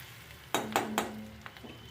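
Spice paste being stir-fried in a pan: three quick, bright clinks and scrapes of a utensil land close together over a faint background hiss, then a couple of softer taps follow.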